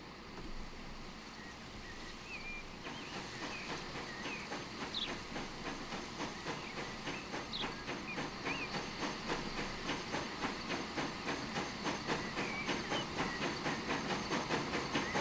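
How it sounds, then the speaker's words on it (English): A steam train chuffs in a steady, quickening rhythm under a constant hiss, growing slightly louder as it runs, with no one talking, in Transport Fever. "now our other train is on the go"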